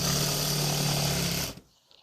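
A sewing machine stitches quilt edges together with a fast, steady motor whir and rapid needle chatter, running loud and continuous for about a second and a half before stopping abruptly, leaving near silence.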